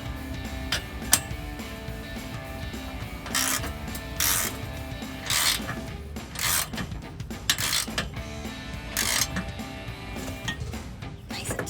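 Socket wrench with a 9/16 socket ratcheting a seat belt bolt in a Jeep Wrangler YJ, rapid light metallic clicks in several short bursts, close and fairly quiet, with faint handling noise between.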